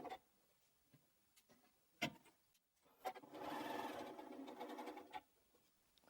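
A domestic sewing machine runs a long quilt seam on a teddy bear patchwork block, a steady close mechanical whir lasting about two seconds after scattered clicks and fabric handling, quiet overall.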